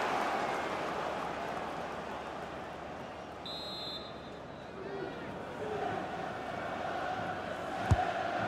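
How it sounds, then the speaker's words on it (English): Football stadium crowd in a PS5 football video game during a Scottish Premiership match between Dundee FC and Rangers, a steady roar of massed fans swelling during a corner kick, with a brief sharp thud near the end. "The crowd are certainly playing their part."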